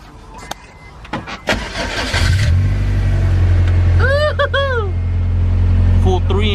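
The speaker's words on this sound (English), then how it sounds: "Joe, turn the car on, fool. See how quiet the car is." A turbocharged Honda B20 VTEC car engine with a full 3-inch exhaust and quiet resonator cranks and fires up, settling into a deep, steady idle rumble close by, with voices speaking over it.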